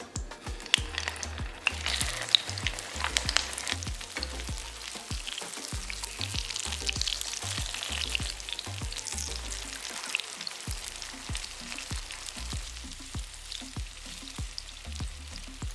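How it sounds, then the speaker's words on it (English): Burgers fry in a pan with a little vegetable oil, giving a steady crackling sizzle with scattered pops and spatters throughout, close and moderately loud, with no talking. "Today I'm gonna go ahead and fry these up in a pan with a little vegetable oil."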